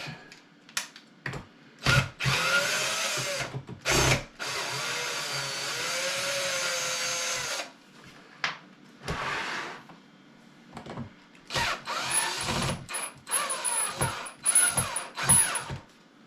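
A power drill backs screws out of an old four-legged wooden stool under repair: several loud, close whirring bursts of a few seconds each, separated by clicks and handling knocks, with no talking.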